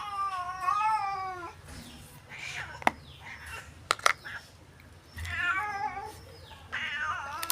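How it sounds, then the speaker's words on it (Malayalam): A cat meows repeatedly in drawn-out, wavering cries with a couple of short sharp knocks between them, fairly close and clear, heard indoors without speech. "നിങ്ങൾക്ക് കേൾക്കാൻ പറ്റും പൂച്ചയുടെ സൗണ്ട് അല്ലേ?"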